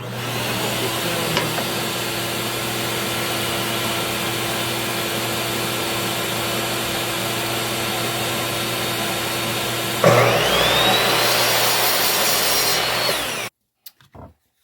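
A power saw cuts wood for a grid frame, a steady loud whining drone running for about ten seconds, then rising in pitch and intensity as the blade bites in before cutting off abruptly near the end.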